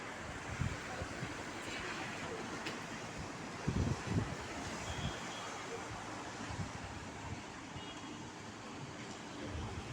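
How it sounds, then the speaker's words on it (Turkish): Strong wind buffets the microphone in a continuous roar, with gusty low thumps rising and falling and no voices. "Bugün çok rüzgar var"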